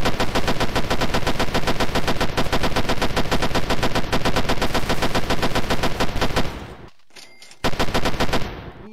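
Rapid, loud automatic gunfire from a Roblox superhero tycoon game, a dense continuous burst lasting several seconds, a brief break, then one more short volley.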